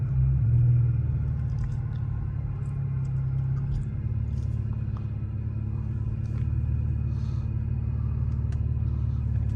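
Low, steady rumble from an Infiniti Q50S engine running as the car moves, a continuous close drone with no talk over it.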